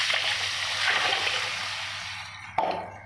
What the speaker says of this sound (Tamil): இந்த சாந்தை இதில் ஊற்றுறோம்.